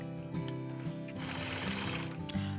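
A sewing machine quilting a patchwork block, its needle mechanism running in a steady, fast, whirring mechanical rhythm with clicking close up.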